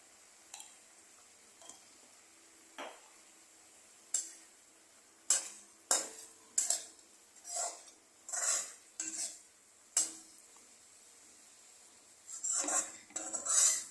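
A spoon stirring fish curry in a pan, scraping and clinking against the metal in a string of separate strokes, sparse at first and then more frequent and louder toward the end.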